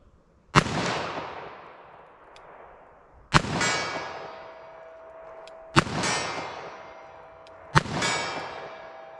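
.38 Special +P Federal Hydrashok rounds fired from a revolver at a steel target: four loud, sharp reports spaced about two seconds apart, each followed by a ringing metallic clang and a long decaying tail, with no talking.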